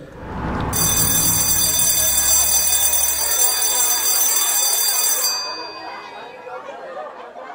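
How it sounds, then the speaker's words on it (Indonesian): A loud electric school bell rings continuously for about four and a half seconds, then cuts off, leaving murmuring voices and background chatter. "Dan tak lama dari itu, bel sekolah pun berbunyi."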